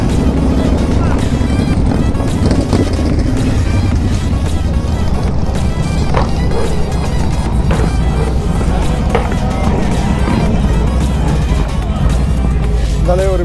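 Motorcycles and other vehicles start up and ride off together at a large international bikers meet with a BMW among them, a dense continuous engine rumble and crowd noise filling the whole stretch, with voices mixed in.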